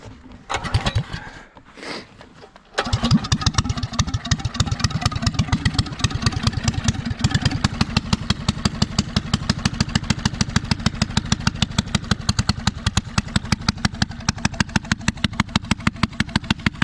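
A Honda GX270 9HP engine swapped into an old Suzuki LT185 frame, carburetor needing adjustment, starts after a couple of brief attempts and then runs loud and close with a rapid, steady putter, rising slightly in pace.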